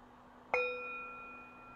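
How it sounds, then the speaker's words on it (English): A meditation bell is struck once to open a mindfulness practice, giving a sharp metallic strike followed by a clear sustained ring that fades slowly in a quiet room. "I am going to ring my bell, and that is going to begin the practice"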